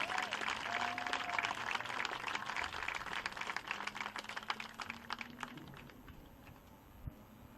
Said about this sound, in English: Let's hear one more round of applause for our three sport athletes.